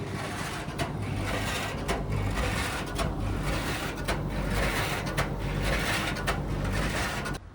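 An Indesit Hotpoint tumble dryer running with a worn, scraping bearing, a continuous loud rumbling churn with repeated rhythmic scrapes and knocks as the drum turns, close by and with no voices.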